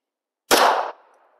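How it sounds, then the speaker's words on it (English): A single sharp crack of a 230-grain Federal .45 ACP round fired from a Rock Island Armory 1911 striking an anvil at an outdoor range, loud and abrupt, with a brief ringing decay afterward. "Finally hit it with the 45 there. Smacked it right there."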